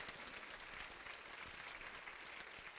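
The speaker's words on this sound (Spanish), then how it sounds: "Un aplauso, los bendigo." Steady applause from a church congregation, dense clapping filling the whole stretch without pause or voices.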